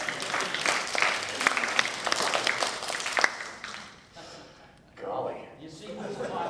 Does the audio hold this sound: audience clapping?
yes